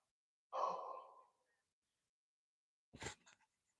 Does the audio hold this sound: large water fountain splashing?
no